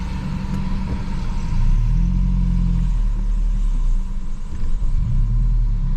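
Large buses rumble past behind a safari vehicle in a game reserve, a steady, loud low engine drone that swells slightly midway and holds throughout with no voices.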